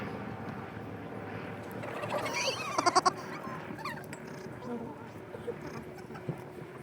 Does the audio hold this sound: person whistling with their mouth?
no